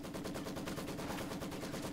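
Rapid bursts of MG42 machine gun fire in the video game Company of Heroes 2, loud, dense and steady throughout with overlapping gunfire and no pauses.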